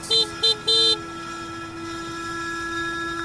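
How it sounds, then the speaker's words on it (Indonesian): A car horn honks three times in quick succession on a street, the last blast held a little longer, followed by a steady engine hum as the vehicle moves on. "Ketika aku pencet klakson,"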